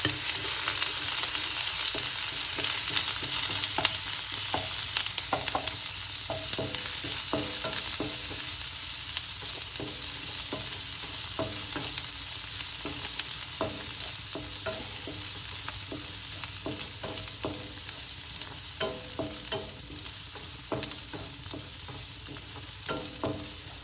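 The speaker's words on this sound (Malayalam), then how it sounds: "ഇഞ്ചി ഒരു സ്പൂൺ ഇഞ്ചിണ്ട് അര സ്പൂൺ വെളുത്തുള്ളി ഉണ്ട് നമ്മൾക്ക് പച്ചമണം പോകുമെന്ന് ഇറക്കി കൊടുക്കാം" Ginger and garlic fry in a hot pan for a coconut-milk chicken curry, giving a steady close sizzle broken by repeated scraping stirs throughout, with no talking.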